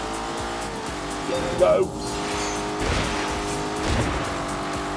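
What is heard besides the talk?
Lamborghini Urus engine and tire squeal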